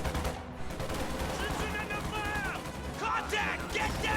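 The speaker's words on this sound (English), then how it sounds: "Riflemen are engaging from a distance" Riflemen trading fire from a distance in Company of Heroes, dense overlapping rifle and machine-gun shots with a few sharper cracks, steady and loud throughout.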